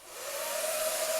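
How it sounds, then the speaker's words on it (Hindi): A hair dryer blows steadily at close range, a continuous loud rushing roar with a faint motor whine, heard alone without any voices. "अभी जो है हेयर ड्रायर चल रहा है"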